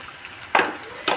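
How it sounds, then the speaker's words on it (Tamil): Ground paste of chilli, coriander, pepper, cumin and fenugreek sautéing in oil for Mangalore fish curry: two short, close hissing sizzle bursts over a faint background. "மிளகாய் மல்லி மிளகு ஜீரகம் வெந்தயம் இதில் எண்ணெயில் கொஞ்சம் வதக்கிக்கிடுவோம்"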